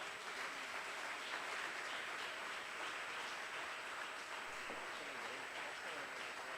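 A church congregation applauds, a faint and distant wash of steady clapping that lasts several seconds over a thin background hum.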